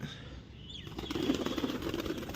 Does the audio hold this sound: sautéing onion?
no